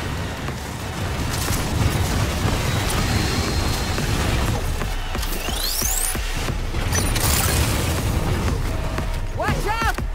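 Barrage of explosions and mechanical bursts in Cyberpunk 2077 Phantom Liberty's Chimera boss fight, a dense, loud continuous rumble with sweeping tones and booms throughout.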